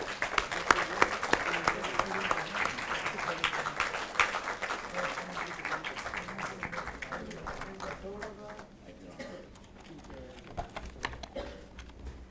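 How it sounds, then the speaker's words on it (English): An audience at a medical academy convocation claps in a hall, a busy patter of many hands that thins and fades toward the end while voices murmur underneath. "May I request Honorable Chief Guest to honor him with applause."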